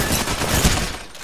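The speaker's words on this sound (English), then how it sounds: "We're shooting." Rapid burst of video game gunfire, loud and close, a dense crackle of overlapping shots with a heavier thump midway, fading slightly at the end.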